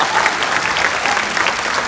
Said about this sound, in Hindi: जोरदार तालियां लेने के लिए।